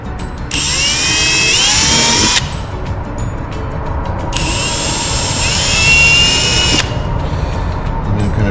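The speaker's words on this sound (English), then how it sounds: "I come through in here with a 1/8" bit to start out" Two loud, sustained bursts of a power drill with a 1/8 inch bit whirring through trim to drill a pilot hole, each a couple of seconds long, separated by a short pause.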